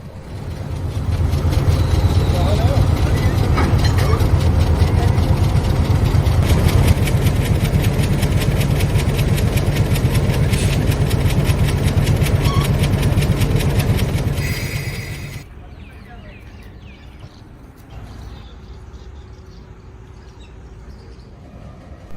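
A diesel locomotive idles at a station platform near the Bhakra Dam, a loud, steady throbbing rumble with knocking that carries for fifteen seconds, then the engine noise drops off sharply and faint ambient sounds remain.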